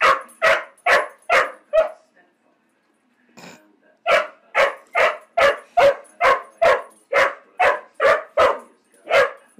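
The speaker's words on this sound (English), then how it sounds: "Why are you barking at the soup?" A dog barks repeatedly at close range, a rapid run of sharp barks, a short pause with a faint whine, then another long rhythmic series of loud barks.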